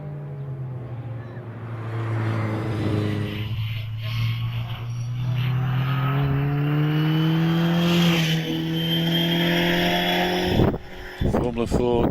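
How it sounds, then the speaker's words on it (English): Formula Ford single-seaters with Kent 1600 engines and Hewland gearboxes at a Harewood hillclimb, a steady sustained engine drone rising in pitch as a car accelerates, with a commentator talking over it throughout. "Formula Fords, of course, running the Kent 1600 engine to the Hewland gearbox."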